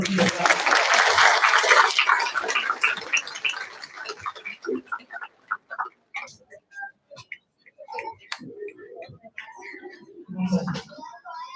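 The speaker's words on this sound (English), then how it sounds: "Let's go ahead and give them a round of applause as well." Applause at an end-of-year graduation ceremony: a loud burst of clapping from the audience that quickly thins into scattered claps and fades, with voices talking as it dies away.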